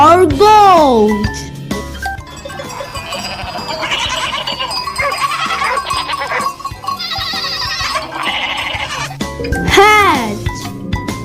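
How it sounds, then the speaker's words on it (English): A goat bleats over bright, tinkling children's music, the bleats close and fairly loud, with a voice speaking at the start and again near the end. "G for goat."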